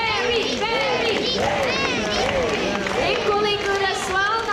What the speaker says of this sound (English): clap your hands and shout his name, Barry, Barry